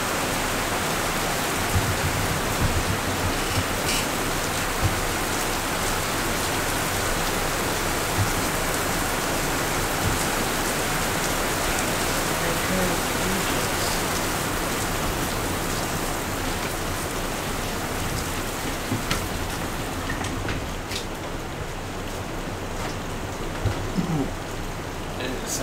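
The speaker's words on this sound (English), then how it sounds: "Now it's raining." Steady rain falls outside, a dense continuous hiss with scattered drops and patters, loud and unbroken throughout with no voices over it.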